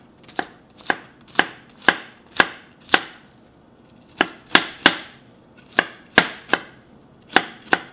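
A knife chops broccoli on a cutting board for beef and vegetable porridge, landing about fifteen crisp, close chopping strikes in uneven bursts with short pauses between them.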